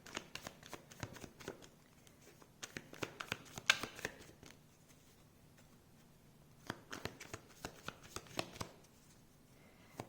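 Tarot cards being shuffled by hand in bursts of quick, crisp riffling and patter, with a quiet pause in the middle before a second run of shuffling, close and fairly soft with no talking.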